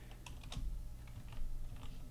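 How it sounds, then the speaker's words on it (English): Steady typing on a computer keyboard, a run of close, light key clicks over a low hum, with no talking. "If I start typing in here"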